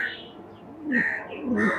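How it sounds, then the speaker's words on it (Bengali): A male teddy pigeon coos close by, two soft throaty warbling coos in quick succession over quiet background. "এই যে নর কবুতরটা"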